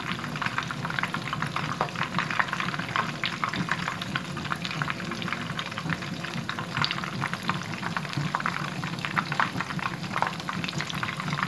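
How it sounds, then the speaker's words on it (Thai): Fish frying in hot oil bubbles and crackles steadily throughout, a dense close sizzle with no voices. "ทอดปลาต้องทอดใจเย็น"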